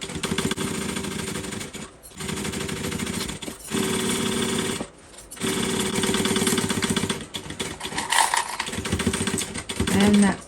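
A domestic sewing machine stitches a curved seam on a fold-over crossbody bag, running loud and close in steady motor-driven bursts with short pauses between runs.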